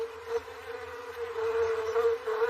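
Honey bees from kept garden hives drone in a steady, close buzz that swells and fades slightly as they move, with no voices over it.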